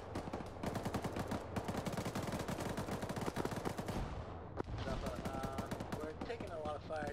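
Gunfire in the military shooter Arma 3: dense, continuous bursts of rapid automatic rifle and machine-gun fire, loud and close, with overlapping shots and a brief lull before the firing resumes.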